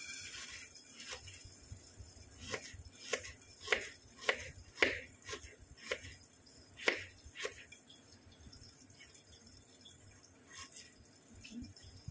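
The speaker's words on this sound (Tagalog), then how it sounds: "Mag-i-slice tayo ng luya, guys." Knife slicing ginger on a board for milkfish with coconut cream, a series of crisp irregular cuts, about a dozen close taps over faint background noise, no talk.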